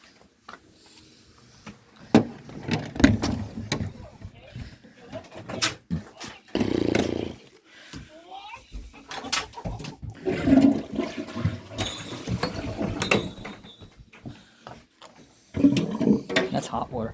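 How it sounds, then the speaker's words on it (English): A full kitchen sink of hot water drains out during a sewer line cleaning, gurgling and rushing in uneven bursts with clatters, while people talk intermittently throughout. "Now I'm going to let the sink out."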